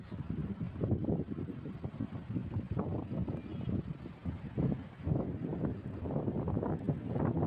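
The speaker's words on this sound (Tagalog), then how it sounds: "Na mahangin na." Wind blowing steadily at the Blue Grotto on Malta's coast, a continuous low rushing gust buffeting the microphone throughout with rumbling surges and no voices.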